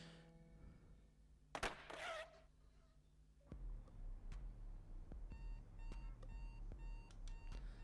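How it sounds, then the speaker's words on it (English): A bedside alarm clock gives faint, regular beeps after a soft thump and rustle, quiet and close with no talking. "I reach over and slap my alarm clock off."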